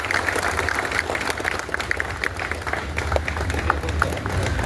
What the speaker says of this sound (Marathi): सर्वांनी टाळ्या वाजवायच्या, कंजूस सर्वांनी टाळ्या वाजवायच्या आपल्याला।